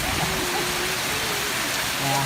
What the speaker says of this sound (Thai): หนาวหนาวเลยบรรยากาศฝนตกตอนนี้นะครับ